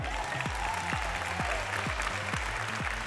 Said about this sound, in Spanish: Los aplausos para Adrián.